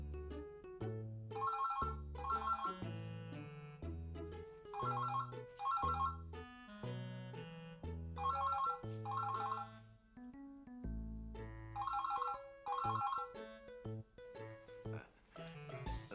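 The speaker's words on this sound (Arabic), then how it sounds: "تليفون معطل" An electronic telephone ringtone plays in repeated bursts of a trilling melodic pattern, loud and alone, continuing for over fifteen seconds in an office setting.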